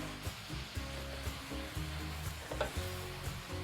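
Cabbage with turmeric is stirred in a hot frying pan: a steady sizzle under repeated scraping and knocking of a utensil against the pan, close and moderately quiet, with no talk.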